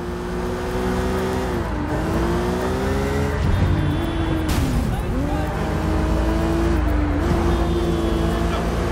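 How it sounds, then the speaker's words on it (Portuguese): A car driven in the video game Sleeping Dogs roars steadily up close, its engine revving and shifting pitch as it accelerates, with a brief whoosh midway and voices mixed in. "Esse carro tá meio barulhento"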